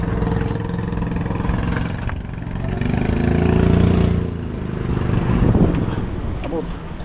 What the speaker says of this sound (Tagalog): Kaya rebulisin muna para labasin yung hangin.